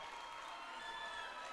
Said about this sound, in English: give a warm round of applause to Alliance 1 for their amazing